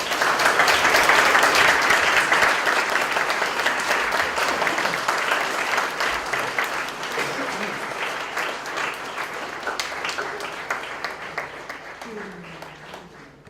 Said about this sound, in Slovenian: In jaz verjamem, da jih bomo vsi zaploskali.